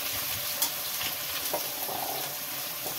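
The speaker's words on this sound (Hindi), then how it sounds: "जो सोयाबीन की बरी है इनको भी निचोड़ के इसमें भून लूंगी" Soya chunks roasting with tomatoes in a pan for veg biryani give a steady, close sizzle with a few stirring scrapes, and no voices over it.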